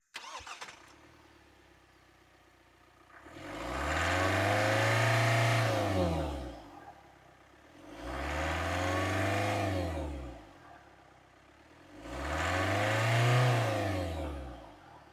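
A Kia Seltos GTX(O) engine revs up three times, each rise swelling loudly then falling back to a steady idle between, close and clear with no talking.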